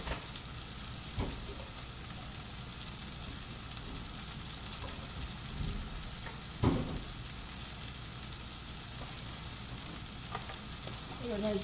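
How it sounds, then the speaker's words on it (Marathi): Dried coconut roasting in a pan beside onions for a kohlrabi curry, a steady close sizzle with occasional soft stirring scrapes, no talk. "इथे ते खोबरं भाजून घेते"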